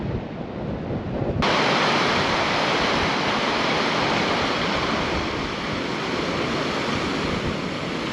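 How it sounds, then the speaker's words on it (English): A waterfall pours down the side of an Arctic valley on Baffin Island as a steady, dense rushing roar that swells in abruptly and holds constant, with some wind buffeting the microphone. "there's another pretty waterfall coming down on our side of the valley"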